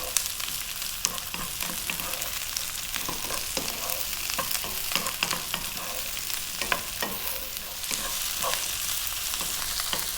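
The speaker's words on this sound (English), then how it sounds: "again stir frying on a high heat." Cauliflower and broccoli stir fried on high heat in a pan, a steady close sizzle with frequent scraping and clattering stirs throughout, no talking.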